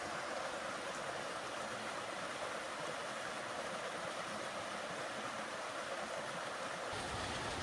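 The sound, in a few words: waterfall and raging stream in a forest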